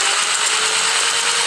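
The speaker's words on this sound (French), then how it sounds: "La pomme de terre, elle est sur la perceuse" A power drill spins a potato fixed on its bit, giving a steady high whirring buzz with a faint constant tone, brief and continuous.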